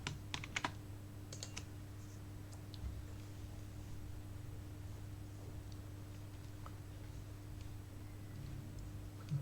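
Typing on a computer keyboard while entering a company name into an Excel financial analysis spreadsheet: a few quick clusters of close key clicks near the start, then sparse faint taps over a steady low electrical hum.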